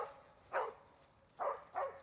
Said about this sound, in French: attaque de chien, attaque de chien